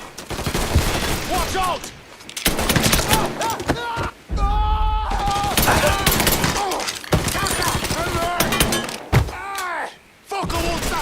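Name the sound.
gunfire from the video game Mafia III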